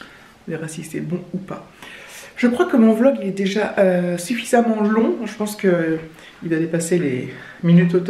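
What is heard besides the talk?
No distinct noise like a dog, phone or traffic.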